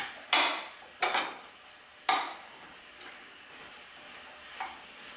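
A utensil scraping Brussels sprouts around a pan, five sharp separate clacks spaced about a second apart, nearby and fairly quiet, with a low sizzle between them and no voices.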